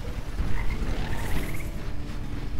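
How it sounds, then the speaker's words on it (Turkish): A frog-like alien creature croaks in the video game Lightyear Frontier, giving a few short, close chirping croaks over a steady bed of game ambience and low rumble, with no talking. "Sesi de kurbağa gibi."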